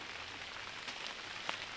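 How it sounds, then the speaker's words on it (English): Soft, steady rain patters on a tent and tarp at a campsite, a faint continuous hiss with a few slightly sharper drops near the end, no voices. "It's very beautiful rain."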